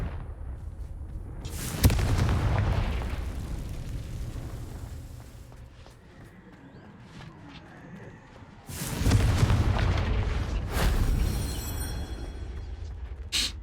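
Explosive Confringo spell blasts in the Hogwarts Legacy video game, two loud booming bursts with rumbling, crackling tails separated by a quieter stretch of game ambience.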